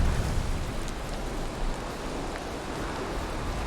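Steady rain falls in the Valheim video game world, a dense, even hiss of drops with faint low rumbling, continuous and fairly loud with no voices.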